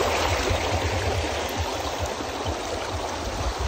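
The Lagnas River in Sariaya, Quezon flows strongly, a loud, dense and continuous rush of water close by with no voices over it.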